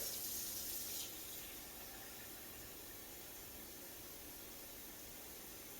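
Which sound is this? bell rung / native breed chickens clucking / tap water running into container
tap water running into container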